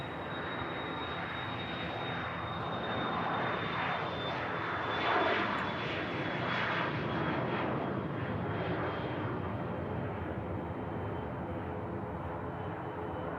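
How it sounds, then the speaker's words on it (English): Aer Lingus Airbus A330-300 with CF6 engines taking off at Manchester Airport, a loud broad steady engine roar with a high whine that slowly fades as it climbs away. "I'm really excited to see this Aer Lingus A330-300 depart."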